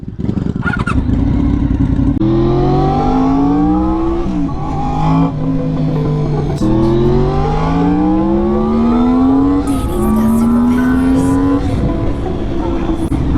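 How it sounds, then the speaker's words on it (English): A 1991 Honda VFR 750F Interceptor with gear-driven cams, ridden hard and loud from the rider's seat, its engine rising through the gears in repeated climbing sweeps with brief dips at each shift. "This is a 1991 VFR 750F Interceptor. This thing's not super duper fast, but boy does it sound good."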